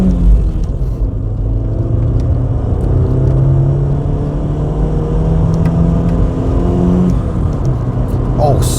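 A Ford Escort Mk6 accelerates steadily, its engine droning and rising in pitch under a continuous road rumble, heard loud from inside the car with a person speaking over it.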